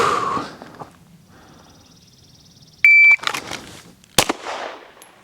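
A handgun bill drill starts with a sharp electronic timer beep, then a quick string of loud, close gunshots follows, with quiet outdoor ambience before it.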